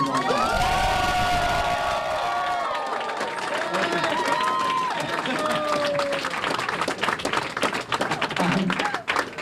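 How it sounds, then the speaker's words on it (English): A crowd at a political event on primary day cheers and applauds loudly and continuously, with whoops and shouts over steady clapping that thins toward the end. "please, please, please cheer for my wife Natalie Ellen."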